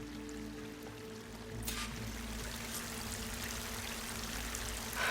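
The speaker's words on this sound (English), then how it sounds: "That waterfall must be coming from somewhere." Waterfall in the video game Horizon Forbidden West: a steady rushing, pouring water sound that swells after the first couple of seconds and continues alone over a low ambient hum, moderately faint.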